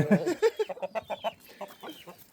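Chickens cluck in a quick series of close, short calls in a village yard, tapering into softer clucks at the end.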